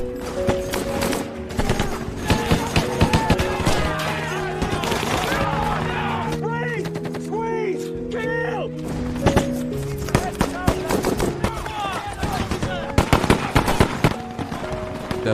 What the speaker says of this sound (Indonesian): pertempuran pun kembali terjadi